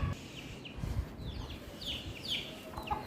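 A hen clucks softly while her chicks peep in short, high chirps, faint and intermittent against a quiet room background.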